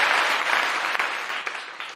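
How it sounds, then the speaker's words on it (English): One person claps in a brief, steady burst, the claps sounding close and fairly quiet. "Let me give you a clap up real quick."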